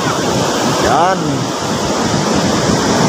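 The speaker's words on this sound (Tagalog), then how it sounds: "Yan, grabe yung alon mga kabay" Large ocean surf breaking at a crowded beach: a loud, steady wash of roaring waves fills the whole stretch, with someone briefly speaking over it.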